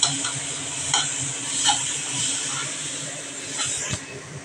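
Kashmiri chili powder sizzling in hot oil while being stirred, a dense continuous fry hiss with soft scraping strokes of the spoon recurring across the pan, close and moderately loud.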